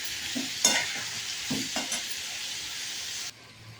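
A large tomato drops into a hot frying pan and is stirred while making a Telugu palak pappu and vankaya curry: steady bright sizzling with a few scraping stir strokes, then the frying noise dips near the end.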